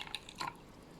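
Excess water draining down through a double cup, a brief trickle with a few soft drips and gurgles, faint and close.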